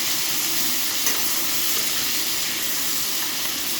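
Crab pieces coated with salt and turmeric frying in a pan of hot oil with bay leaf, dried chili and five-spice, producing a loud, steady sizzle that holds evenly throughout with no talking.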